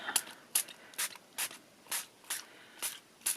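Aerosol spray can giving quick bursts over a journal page background, about eight short hissing blasts in steady rhythm, close and fairly loud with brief quiet gaps between.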